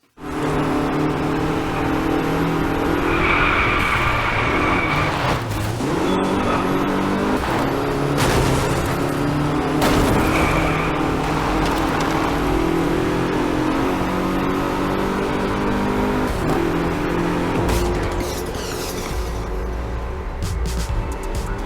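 Racing cars in a PlayStation racing video game drone and rev continuously at close range, engines rising and falling with gear changes for over twenty seconds and no talk.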